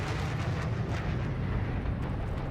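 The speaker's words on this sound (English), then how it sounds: "Airstrike coming in." Airstrike in a competitive online shooter: a sustained, loud rumbling blast roar with dense low-end energy, rolling continuously for a few seconds with no talk over it.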